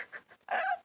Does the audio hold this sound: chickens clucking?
yes